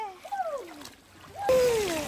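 A child jumps into a river and hits the water with a splash near the end, after people's voices and excited shouting on the bank.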